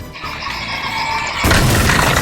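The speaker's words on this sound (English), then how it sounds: "My car got wrecked." A Duplo Lego toy police car crashes after a chase, with a steady hum suddenly broken by a loud, clattering smash of plastic pieces midway through.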